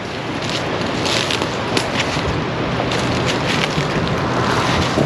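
Strong, steady wind roars and buffets the microphone throughout, with a low rumble that never lets up.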